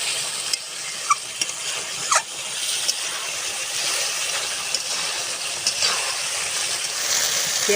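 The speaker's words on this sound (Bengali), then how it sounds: "এবারে মশলা দিয়ে পটল দিয়ে একটু ভালো করে কষিয়ে নেব।" Pointed gourd (potol) stir-fried with spices in a pan gives a steady close sizzle with repeated scraping strokes and occasional clinks of the spatula against the metal.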